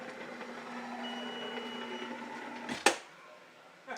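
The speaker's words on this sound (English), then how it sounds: "we're going to load the shaft into the machine first of all, and then we're going to press start" A golf driver shaft testing machine runs with a steady low mechanical hum, then gives one sharp clunk as it starts up, leaving a quieter hum behind.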